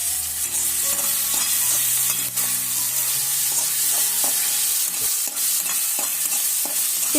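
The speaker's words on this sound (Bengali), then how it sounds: "খুব ভালোভাবে মশলাটাকে কষিয়ে নিতে হবে।" Garlic and ginger paste with spice paste being stir-fried for chicken bhuna, a steady close sizzle with repeated scraping and clinking of a spatula against the pan throughout.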